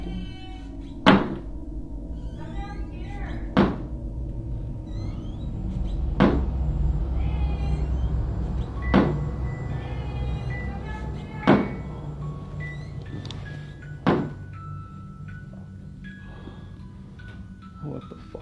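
A door in a house, the front door, slams with six sharp, evenly spaced bangs a few seconds apart, each one standing out loudly over a quiet room with faint background sounds.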